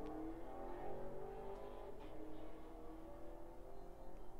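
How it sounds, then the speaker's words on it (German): A car with a loud engine rumbles past at a moderate distance, a steady low roar rising and fading over a few seconds. "Da ist ein Auto mit einem sehr lauten Motor gerade über die Straße gefahren."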